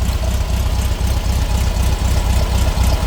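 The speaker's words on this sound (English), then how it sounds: "I think it's a 1600cc engine. Runs really well. Fires up cold," A 1986 Volkswagen Beetle with a 1600cc engine and a single carburetor idles steadily close by, its even low-pitched pulsing running unbroken with no talking.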